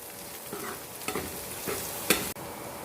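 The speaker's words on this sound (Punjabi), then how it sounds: "ਅਦਰਕ ਲਸਣ ਤੇ ਹਰੀ ਮਿਰਚ ਦਾ ਪੇਸਟ ਪਾ ਲਾਂਗੇ ਇਹਨੂੰ ਵੀ ਅਸੀਂ ਨਾਲ ਹੀ ਪੁੰਨ ਲੈਣੀ" Ginger, garlic and green chili paste frying with onion in a pan, a soft steady sizzle under a few brief stirring scrapes and one sharp clink, close and fairly quiet.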